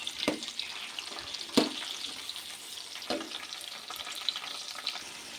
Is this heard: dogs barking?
no